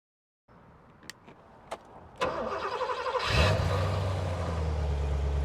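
A classic car engine, Porsche 928 GT or Rolls-Royce Corniche, is started after a few faint clicks and settles into a loud, steady idle with a deep rumble that continues to the end.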